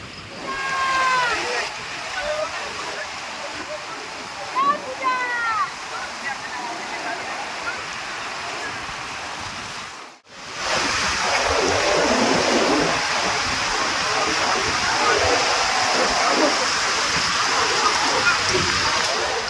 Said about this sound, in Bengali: সমুদ্রের ঢেউয়ের আওয়াজটাই ব্যাকগ্রাউন্ড মিউজিক হিসেবে থাক